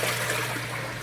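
Water from an AquaClear 110 aquarium filter rated at 500 gallons per hour, pouring onto the water surface as a steady close trickling rush with a low constant hum underneath, no voices.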